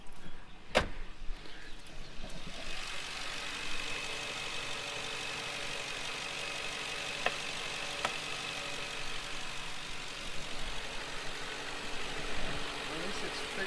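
A Ford Crown Victoria V8 idles steadily after a ported intake plenum install, a low continuous engine hum with a faint high whine, close by, with a few brief clicks partway through.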